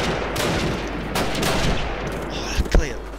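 Gunfire in the first Call of Duty game: scattered shots and bursts over a dense battle background, with a couple of sharper, louder reports near the end.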